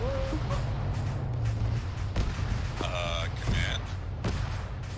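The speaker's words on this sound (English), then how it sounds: "there was a lot of explosions in the original area" Explosions and bursts of gunfire rumble through an ArmA 3 combined-arms battle, a continuous distant barrage with occasional sharper booms while players talk over it.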